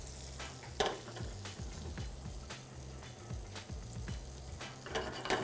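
Butter melting over medium heat in a non-stick pan, giving a steady, soft crackling sizzle with scattered small pops throughout, fairly quiet and close, with no talking.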